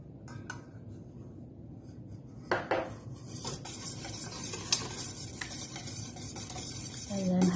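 Egg yolks and oil being beaten together in a bowl for chiffon cake batter, with steady scraping and clinking of a utensil against the bowl, occasional louder knocks, and no talking.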